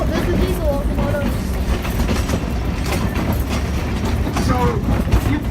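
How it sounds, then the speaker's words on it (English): A diesel locomotive on a narrow gauge railway in Portland rumbles close by. A loud, continuous engine drone carries faint wheel squeals and rhythmic rail clatter over it. "Oh, there's the diesel locomotive."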